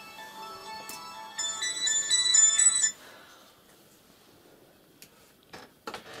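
A phone ringtone plays a bright, repeating melodic pattern for about three seconds, then cuts off, leaving faint room noise and a few clicks and knocks.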